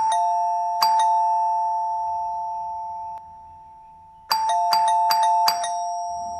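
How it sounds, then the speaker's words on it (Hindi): A doorbell rings out loudly, one long sustained chime, then a single ring, then a rapid cluster of four insistent presses, each tone decaying cleanly into quiet. "उसकी ननद इतनी देर से दरवाजे पर घंटी बजा रही थी।"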